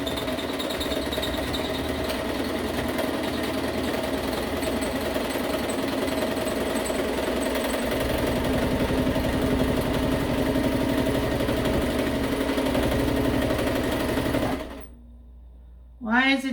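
A sewing machine runs steadily while stitching a blue comforter, a loud continuous mechanical whir and rattle that goes on for about fifteen seconds before stopping abruptly, with a faint voice underneath.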